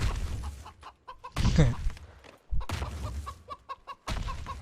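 Giant chicken in the video game PUBG making loud, rough clucking bursts mixed with game noise, starting and stopping several times in quick succession, close and prominent.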